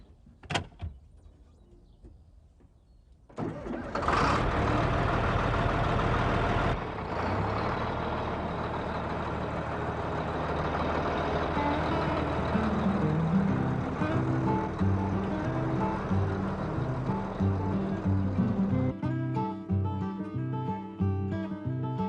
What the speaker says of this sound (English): Stand back now. Gonna start the tractor.